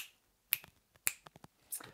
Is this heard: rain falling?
no